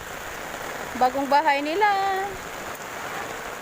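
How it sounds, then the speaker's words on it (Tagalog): Steady rain patters all around outdoors, a constant hiss beneath a woman's speech in the middle. "Malakas na yung ulan."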